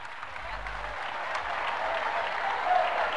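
Crowd applause at a gift presentation ceremony in La Paz, steady moderate clapping that builds slightly, with some talk mixed in beneath.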